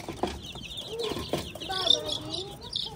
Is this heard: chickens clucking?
yes